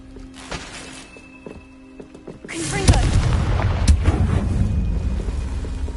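A Confringo blasting spell in Hogwarts Legacy bursts into a deep, booming explosion with a rumbling tail, preceded by quieter spell clicks and chimes.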